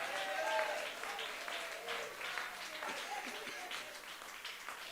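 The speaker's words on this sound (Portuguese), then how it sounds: "Então dê aquela salva de palmas com palmas e glória para Jesus." A church congregation claps and applauds after a sermon, a soft, somewhat distant and steady patter of many hands with faint voices mixed in.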